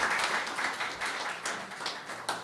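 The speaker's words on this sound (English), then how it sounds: "I really want another round of applause for the Mayor" Audience applause for the Mayor at a Washington, DC press event on the fight against HIV: a steady wash of many hands clapping, moderately loud and continuous, with a few sharper claps standing out.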